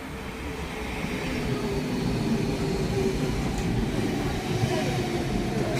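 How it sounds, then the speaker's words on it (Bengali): Electric train at a seaside station in Denmark, rolling past with a steady, loud rumbling drone of wheels on rails that holds evenly throughout. "এগুলো কিন্তু ম্যাগনেটিক ইলেকট্রিক্যাল ট্রেন, সাউন্ড ছাড়া চলে এবং কারেন্টের মাধ্যমে চলে"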